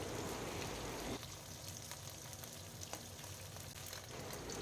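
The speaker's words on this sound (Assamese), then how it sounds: "আমাৰ শিঙি মাছখিনি ধুনীয়াকৈ ফ্ৰাই হৈ গ'ল, আধা ফ্ৰাই কৰি ল'লোঁ" Singhi catfish half-fried in hot oil for a curry gives a faint, steady sizzle and crackle with scattered small pops, louder at first and then settling into a softer continuous hiss.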